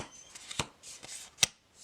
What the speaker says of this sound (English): I think I can riffle shuffle this.